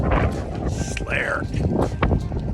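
Strong wind buffets a microphone outdoors during a bike ride around the block, a loud, continuous low rumble filling the whole short stretch while a person speaks briefly over it.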